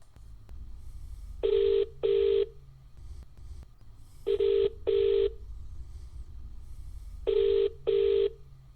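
A telephone ringback tone repeating as a call tries to connect, three pairs of steady double beeps with short gaps between them, fairly quiet over a faint background hiss.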